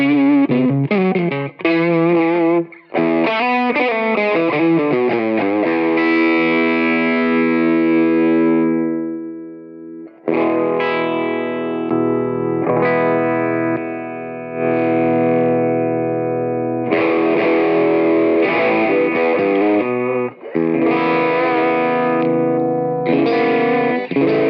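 An electric guitar run through a Tube Pilot overdrive pedal plays loud driven chords and sustained single notes, with phrases ringing out, a brief pause near the middle, then more overdriven strumming and picking, and no talking.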